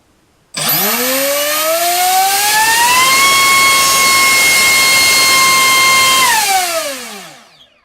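A Warhead 3545 1850KV brushless motor spins a propeller on a thrust test stand, starting abruptly, whining up to a loud steady high pitch, holding, then spinning down and fading.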